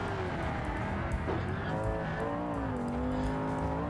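A BMW M5 F90 driven in the BeamNG driving game, its engine note rising and falling steadily up close while tires squeal and scrub through a turn, continuous and fairly loud with no talking.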